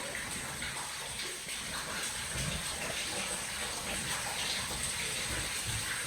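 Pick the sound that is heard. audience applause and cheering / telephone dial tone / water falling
water falling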